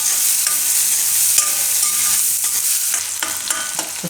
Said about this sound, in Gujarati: ડુંગળીને થોડીક વાર આમાં પાકવા દઈએ.